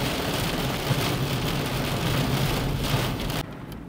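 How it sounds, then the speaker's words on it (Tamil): Heavy rain pours steadily during a thunderstorm in Saudi Arabia, a dense continuous roar with low rumbling beneath, recorded close and loud with no talking until it cuts off near the end. "கைஸ் இங்கே பாருங்கள் எப்படி மழை உழுகுதுன்னு மட்டும் பாருங்கள், செம்மையாக இருக்குப்பா."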